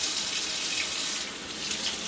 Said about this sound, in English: you need 2 cups of warm, not really hot water, but reasonably warm water